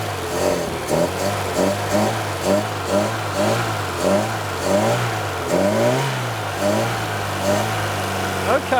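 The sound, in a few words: 1980s turbo hot hatch car engine running and revving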